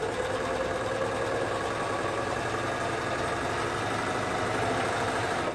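Sewing machine stitching elastic onto the liner and outer layer of boys' mesh shorts, a steady continuous mechanical whir and hum running evenly throughout at close range with no talking.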